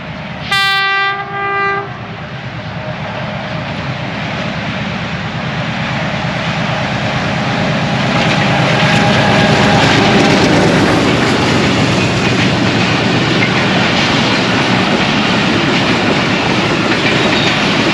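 The Jaffar Express passenger train, with brand-new coaches, thunders past at speed on a single line, its horn blaring briefly at the start. Then comes a loud, sustained roar of coaches rushing by with a steady clatter, close and alone.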